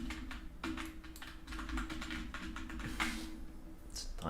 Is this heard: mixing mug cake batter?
no